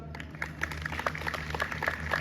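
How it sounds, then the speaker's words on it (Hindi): An audience applauds Anil Kapoor's entry on a live Bigg Boss OTT Season 3 stage show, a steady, moderately loud patter of claps across the whole clip. "ताली बजाओ एक बार जोरदार"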